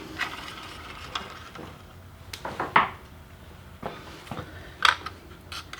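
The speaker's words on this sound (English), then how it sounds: "We're going to slide our wheels on." Small wheels slide onto the axle of a foam model airplane chassis, giving a series of light, soft clicks and scrapes with brief plastic rattles, close by and quiet.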